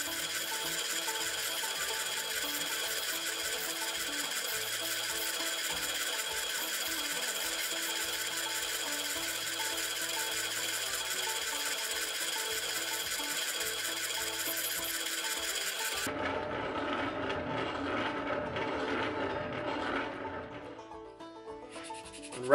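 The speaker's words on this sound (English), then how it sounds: "80 grit drum on the oscillating spindle sander here. And we're going through and smoothing the 45 that we did" An oscillating spindle sander with an 80 grit drum smooths and rounds a knife sheath, a steady loud whirring hum with rubbing that runs for most of the stretch, then gives way to quieter rustling sounds.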